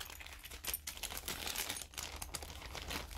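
Plastic packaging of a TIE Fighter model kit crinkles and rustles faintly in irregular bursts as it is opened up close.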